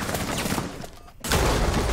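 Rapid gunfire from a high fire-rate weapon in the tactical shooter Rainbow Six Siege, dense bursts filling the first half, a short near-silent gap, then loud sustained shooting resuming.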